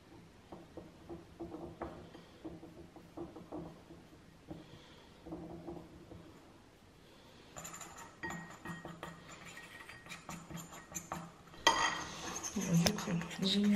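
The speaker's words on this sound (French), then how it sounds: "et maintenant je mélange bien comme il faut que ce soit sans grumeaux" A spoon stirs a hair powder paste with water in a bowl, giving soft scraping and clinking against the bowl, intermittent and close, followed by louder clattering toward the end while someone speaks.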